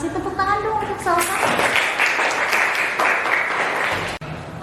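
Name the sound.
applause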